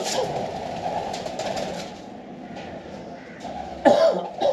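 Pigeons coo softly and continuously on a new rooftop loft among a flock, a low murmur with a brief sharper burst near the end.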